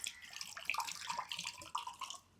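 Water is poured in a faint, uneven trickle with light splashes and gurgles, quiet and close, fading out at the end.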